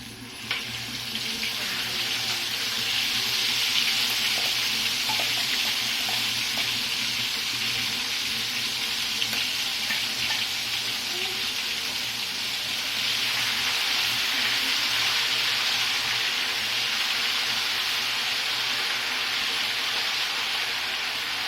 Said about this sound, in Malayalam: നമ്മൾ അരച്ച് വെച്ച ഐറ്റംസ് വെളിച്ചെണ്ണയിലേക്ക് ഇടാൻ പോവാണ്